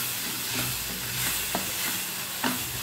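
Masala mixture for mushroom stuffing is stirred in a hot pan, with spoon scrapes every half second or so over a soft continuous sizzle, close and moderately loud, with no talking.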